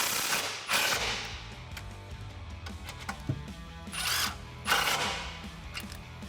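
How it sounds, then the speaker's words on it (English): Exhaust hardware on a 2018-2020 Mustang GT with a Borla axle-back is tightened using a 13mm socket and extension, giving bursts of buzzing power-tool whir and metallic clatter in short pulses over a steady background hum. "grab a 13mm socket and extension and tighten these down"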